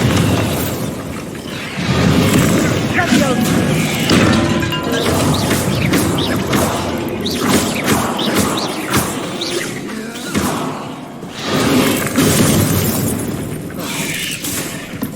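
Repeated spell blasts in Hogwarts Legacy, Confringo and Bombarda, crash and burst loudly and close in a dense, chaotic barrage of explosions, smashing debris and rumble over a sustained roar, with no talking.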